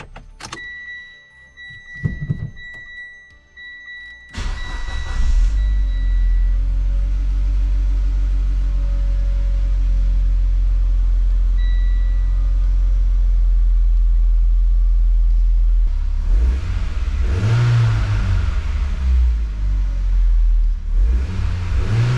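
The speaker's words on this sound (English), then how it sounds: "I think we're ready for the first start." First start of a Mitsubishi Evo X engine after an intercooler and piping install: a few clicks and faint tones, then the engine cranks and catches, settling into a loud steady idle with two brief revs near the end.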